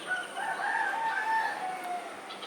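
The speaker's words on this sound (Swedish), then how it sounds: "där nere har vi tupparna" Roosters crow below a balcony, one long drawn-out call with a wavering tone rising and falling, moderately distant over faint background hiss.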